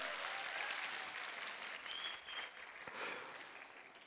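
Moderate, fairly distant applause from Fenerbahçe supporters in a room audience, a soft even wash of clapping that thins and fades slightly toward the end.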